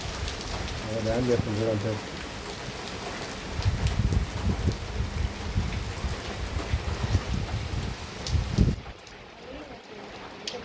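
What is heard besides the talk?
heavy rain falling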